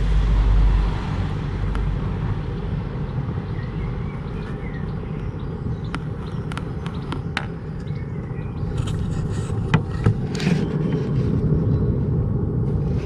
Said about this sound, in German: Dann kommt wieder ein Auto vorbei.